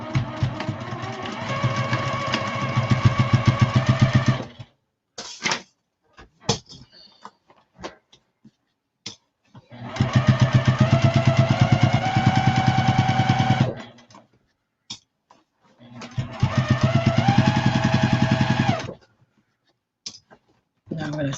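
A sewing machine stitches a seam on a drawstring bag in three loud, close bursts of rapid rhythmic whirring, separated by quiet stretches with scattered clicks and handling noises.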